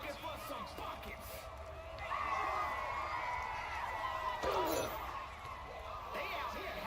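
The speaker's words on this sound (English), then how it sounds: "The crowd is looking for some buckets." Arena crowd noise from NBA 2K26 basketball swells and cheers behind game commentary, rising around the middle with loud bursts, while a basketball game plays on.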